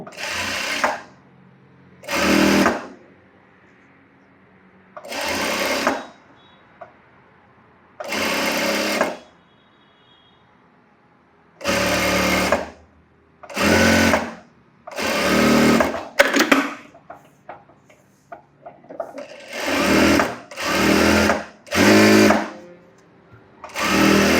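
A sewing machine stitching a designer blouse, running in about a dozen short loud bursts of a second or two, separated by quiet pauses, close and with no voices.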